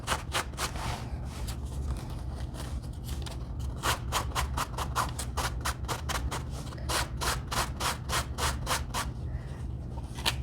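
Sandpaper rubs lightly over the back of denim jeans to distress them, in quick bursts of rhythmic scratchy strokes, some slow and some rapid, close up with no talking.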